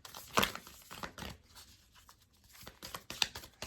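Tarot cards being shuffled by hand, an awkwardly shaped deck giving papery riffles and crinkly bursts in a few uneven clusters, close and fairly quiet.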